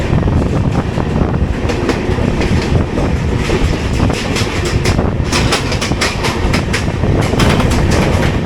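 Steady rumble and rhythmic clickety-clack of the 12935 Surat Intercity heard from inside an AC chair car while running, continuous and fairly loud with repeated wheel-joint beats and no talk.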